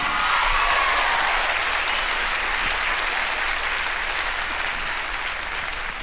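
A live audience at a 1987 gospel concert applauds steadily, a dense, loud clapping that holds for six seconds as a bass performer is welcomed to the stage.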